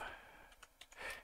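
Quick keystrokes on a computer keyboard while entering a search: a handful of soft, close clicks in an uneven rhythm, quiet against a faint background hiss.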